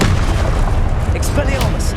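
A Confringo blasting spell going off in Hogwarts Legacy, a loud close boom with rumbling low end and sharp crackling bursts, dense combat noise throughout.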